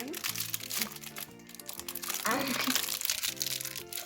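Plastic wrapper crinkling as a surprise egg toy is unwrapped, the crackle running throughout over steady background music with a young voice speaking briefly.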